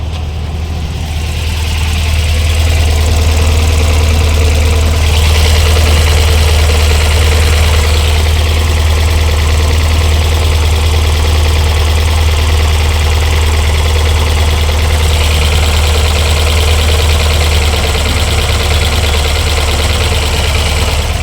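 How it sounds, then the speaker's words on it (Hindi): A Tata Nano idles with its AC condenser fan whirring outside. A steady, loud low engine hum mixes with an even fan drone throughout, with no interruptions. "बाहर कंडेंसर फैन चलना शुरू हो गया,"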